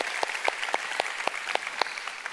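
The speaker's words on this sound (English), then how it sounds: "Let's give the Lord a big hand." Church congregation clapping in a steady rhythmic beat, sharp evenly spaced claps close by, with no talk over them.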